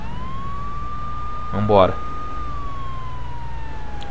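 A police car siren in GTA 3 Definitive Edition wails steadily through the whole stretch, rising and falling slowly at moderate loudness, while someone briefly speaks over it.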